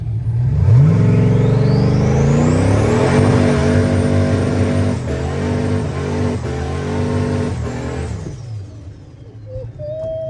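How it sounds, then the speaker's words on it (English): A turbocharged Ford Foxbody Mustang accelerates hard, its engine climbing in pitch through rising gear pulls with a whining turbo on top, loud and close, then dropping away to a quieter idle near the end. "So we're gonna take him for a ride so he can feel some Ford power."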